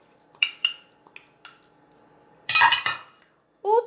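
Utensils clink against a large bowl while carrots, onion, tomato and olives are mixed, a few scattered light taps followed by a louder rattling scrape and a final clatter, no talk.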